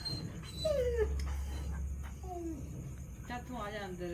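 A dog whimpers in a few thin, high rising and falling whines, close by, over a low background hum, with a faint voice in the background.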